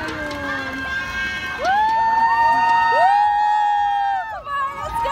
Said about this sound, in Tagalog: Ang daming crowd sa daanan, so hindi na tayo makakadaan.